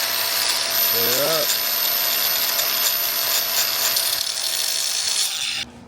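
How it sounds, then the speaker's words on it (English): A power tool with a cutter notches a steel tube for bolt-on rock sliders on a 3rd gen 4Runner, a continuous close whirring grind that runs until it stops near the end, with brief speech over it. "we'll just go ahead and notch that with a cutter like this"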